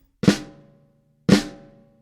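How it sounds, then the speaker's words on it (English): Two separate drum flams, each a grace note and primary note struck almost together on a drum head, sounding as crisp close hits about a second apart and ringing out briefly. "A flam is particularly suited to playing fills and involves two notes played very closely together."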